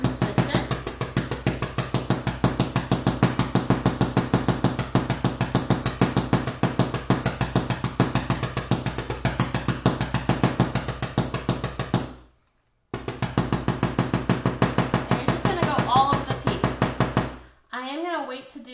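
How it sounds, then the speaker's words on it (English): A metal hammer strikes the edge of a copper sunflower earring in a fast, steady run of sharp, bright taps near at hand. The blows break off briefly, then start again, and a voice comes in at the very end. "So I make sure I take that hammer and get the edge while I'm doing this."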